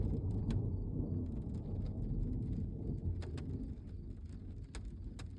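Early morning thunderstorm at 4 a.m. heard from a camping truck, steady heavy rain with a low rumbling roll of thunder and scattered sharp drop taps on the surface.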